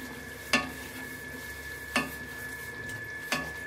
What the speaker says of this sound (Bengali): এটাকে আমি আর একটু নাড়িয়ে নিচ্ছি।